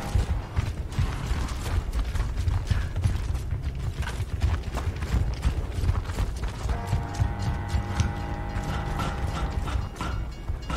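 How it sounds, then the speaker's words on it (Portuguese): A train rumbles past in Gears of War: Ultimate Edition, steady mechanical clanking and rattling carrying on for several seconds at a moderate, continuous level with rhythmic metallic creaks. "Tá vindo um trem aí, bicho."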